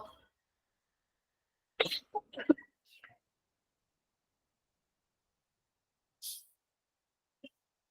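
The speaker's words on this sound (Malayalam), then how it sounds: "പെട്ടെന്ന് ചുമ വന്നപ്പോ അങ്ങനെ ആയിപ്പോയതാണേ" A few short coughs during a live online class break a quiet room, a cluster of harsh bursts followed by a pause and a single later cough, close and fairly soft.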